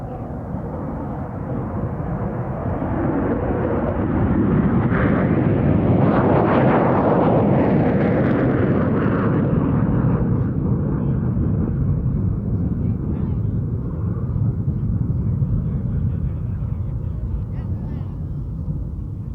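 A USAF McDonnell Douglas F-4E Phantom II from the 20th Fighter Squadron takes off from the runway at an air show, a loud sustained jet roar that swells, peaks as it passes and then stays as a heavy rumble fading slightly into the distance.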